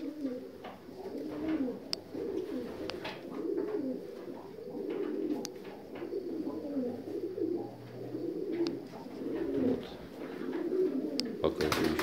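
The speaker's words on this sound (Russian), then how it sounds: "Держите голубей. Любите птицу." Soft, repeated cooing of North Caucasian tumbler pigeons in a steady low warble throughout, with brief bird calls and rustling noises mixed in.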